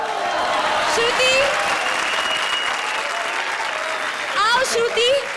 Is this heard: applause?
yes